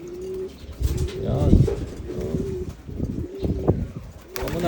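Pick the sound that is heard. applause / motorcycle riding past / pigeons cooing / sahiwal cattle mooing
pigeons cooing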